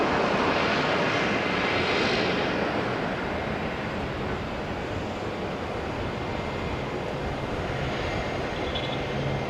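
Qantas airliner arriving from Melbourne at Auckland Airport, a continuous loud jet roar that swells slightly early on and then holds steady, broad and somewhat distant, with no speech.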